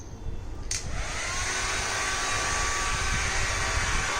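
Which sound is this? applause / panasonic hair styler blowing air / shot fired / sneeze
panasonic hair styler blowing air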